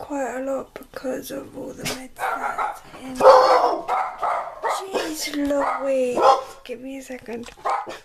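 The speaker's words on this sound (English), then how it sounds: "You might hear my dogs barking in the background." Household dogs bark and yip repeatedly in the background, short sharp bursts scattered throughout while a person talks over them in a room.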